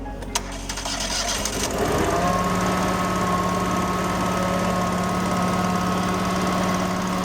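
The engine of an Amtex Prowler 2533 LP pressure washer catches after cranking and settles into a steady, loud, close idle with a constant droning hum and buzzing vibration.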